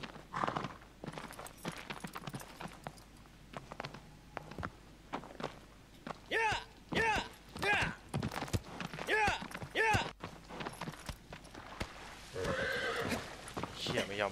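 A horse in the video game Shadow of the Colossus whinnies several times in close succession amid hoofbeats and footstep-like thuds, while someone talks over parts of it.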